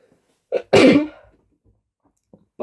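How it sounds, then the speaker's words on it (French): A single sharp sneeze, close and loud, with a brief intake before it and quiet afterward, triggered while tweezing a moustache. "Ça m'a fait éternuer."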